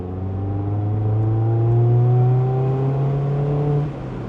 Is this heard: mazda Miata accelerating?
yes